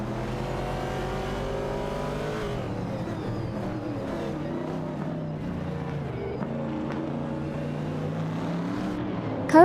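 Race car engines in an AI racing video game drone and rise in pitch as they accelerate, a continuous roar of several cars with no voices.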